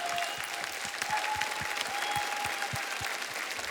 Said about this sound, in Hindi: जोरदार तालियां जय विजय के लिए।